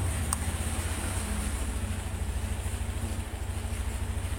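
A Honda Scoopy scooter engine idles steadily with a low, even putter and a faint high whine, close and constant throughout.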